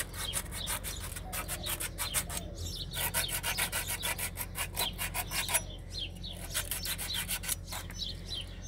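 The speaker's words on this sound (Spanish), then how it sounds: "Y vamos a dar otra pequeña lijadita." Sandpaper rubs back and forth in quick, steady rasping strokes, close by, with brief pauses between bursts, while a pressurized water pump is installed.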